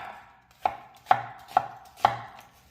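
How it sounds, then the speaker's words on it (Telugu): A kitchen knife chopping onions on a board for paneer matar pulao, five crisp evenly spaced thuds about half a second apart, close and clear with no talk. "చాలా ఫాస్ట్ గా కట్ చేస్తున్నావు ఆనియన్స్"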